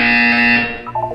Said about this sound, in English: You will hear a buzzer. When you hear the buzzer, look down at the floor.